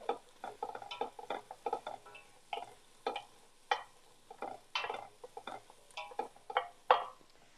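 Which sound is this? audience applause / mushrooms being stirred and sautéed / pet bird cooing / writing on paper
mushrooms being stirred and sautéed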